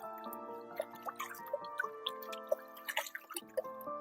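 A liquid spray mixture for treating caterpillars on spinach and eggplant is stirred with a cup, giving soft dripping and splashing liquid sounds over a steady tonal background.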